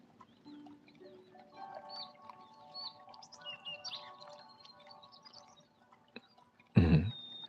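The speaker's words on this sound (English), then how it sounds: "That's a bird sound." Several small birds chirp and whistle in short, varied phrases at moderate distance through a quiet background, ending with a louder, brief burst of sound near the end.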